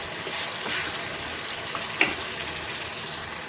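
Tamarind paste with green chillies bubbles and sizzles in a pan, a steady close frying hiss broken by a few soft stirring clicks and one sharp tap.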